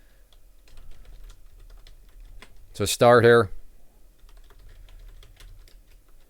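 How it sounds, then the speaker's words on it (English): Someone types on a computer keyboard in a quiet room while day trading, a soft run of key clicks in the background with a short burst of speech partway through. "If you do hear typing, that is just me making alerts in the chat room"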